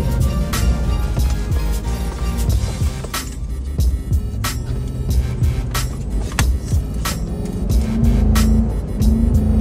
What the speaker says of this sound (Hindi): पूरा जोर मांग रही है भाई गाड़ी।